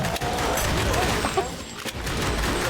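Dense, continuous gunfire from the arcade shooter The House of the Dead Remake fills the whole stretch, loud and busy with bursts, layered with game effects and players talking over it.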